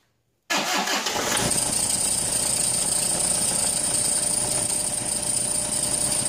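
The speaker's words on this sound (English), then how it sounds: "the next thing that we'll do now is to turn on our engine" Car engine cranking and catching, then settling into a loud, steady idle with a constant whine that continues to the end.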